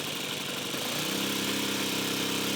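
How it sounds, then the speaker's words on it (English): Glow-fuel engine idling on a Top Flite Bonanza V35 model airplane, a steady buzzing drone that holds at close range for the whole stretch, loud and unbroken with no talk. "check and make sure that the engine is running well"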